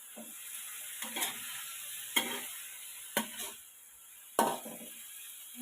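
Shallot bulbs sizzle in a pan while being stir-fried for Thai ginger chicken, with a constant soft frying hiss broken by about five sharp, close spatula scrapes at a loose, regular pace.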